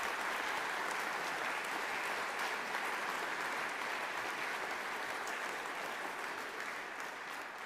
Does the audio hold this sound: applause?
yes